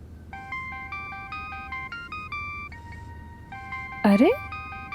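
A phone rings with a repeating electronic melodic ringtone in short bursts, followed by a loud sliding tonal sound near the end, with speech present.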